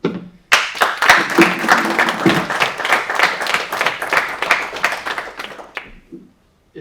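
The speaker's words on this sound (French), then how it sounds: "moi c'est vous que je veux applaudir." Audience applause at an association's general assembly, a dense burst of clapping that starts abruptly, holds steady and loud for about five seconds, then tapers off with a few scattered claps.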